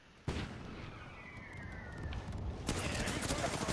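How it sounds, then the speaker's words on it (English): Enemy gunfire in a shooter video game: a sharp burst of shots breaks in early and keeps rattling on, growing denser and louder near the end, with a player talking over it. "Oh, they're shooting at me for some reason."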